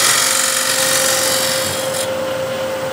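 A scraper finishing a wooden bowl on a wood lathe, a steady whirring hum with a continuous hiss of the cutting edge against the spinning wood, loud and close throughout.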